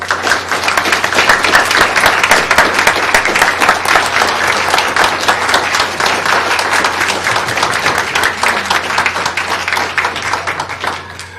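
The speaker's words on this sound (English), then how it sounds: "If we could give them a round of applause." An audience at a school board of education meeting applauds the board members: steady, dense clapping from many hands that holds for the full stretch and eases off slightly at the end.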